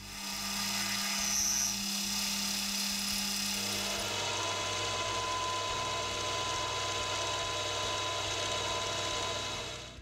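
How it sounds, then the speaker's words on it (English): An end mill cuts along the sides of a steel piece with a loud, steady high whine and a motor hum underneath. The tone shifts once partway through and then holds evenly until the end. "I'll flip over to an end mill and get the sides squared up."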